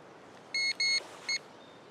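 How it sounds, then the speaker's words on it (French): An electronic device gives short, high-pitched beeps in quick succession against a quiet background. "Donc, il dit, il fait 2 bips."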